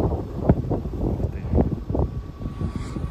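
Steady mountain wind buffets the microphone in a low, continuous rumble that rises and falls in gusts, with no speech.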